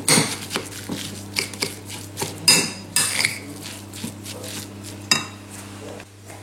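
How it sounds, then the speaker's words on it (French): A spoon stirs and scrapes vegetable stuffing in a bowl, giving a run of irregular clinks and soft scraping taps at close range with no voices. "Je mélange ma petite farce comme ça, pour bien incorporer les petits aliments ensemble."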